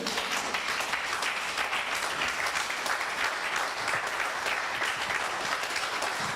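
A church congregation breaks into sustained applause, a dense, steady wash of many hands clapping with no pauses throughout.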